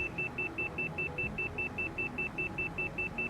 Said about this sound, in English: Just to make the beeping stop.